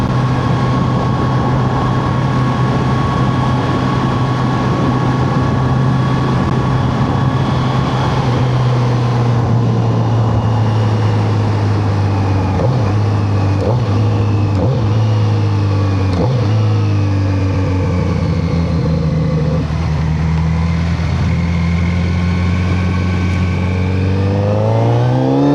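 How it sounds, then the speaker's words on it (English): The exhaust of a 2026 Kawasaki Z900RS motorcycle drones at a steady rumble, then rises and falls through several loud revs and accelerations, close and alone with no talk. "The exhaust is just so cool, just can't help doing that"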